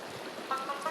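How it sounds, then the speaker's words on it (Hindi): River water in a rural village flows with a steady, close, broadband rushing wash that continues alone without pauses. "तो ये है हमारी नदी"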